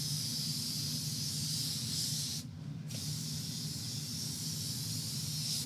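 A solution is sprayed from a spray bottle onto fabric evidence during forensic DNA work, giving a steady hissing mist over a constant room hum, with a brief pause partway through before spraying resumes.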